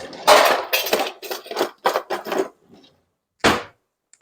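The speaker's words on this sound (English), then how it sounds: "let me get a whisk to whisk this up with" A whisk clinks and scrapes against a bowl while mixing an almond glaze made with milk: a run of quick, close metallic strokes, a short pause, then one final sharp clink.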